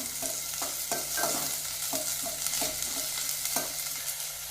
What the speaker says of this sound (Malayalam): ശേഷം സവാള ഇട്ട് കൊടുക്കാം. നല്ലൊന്ന് വാഴട്ടെ, നന്നായി ഇളക്കി കൊടുക്കാം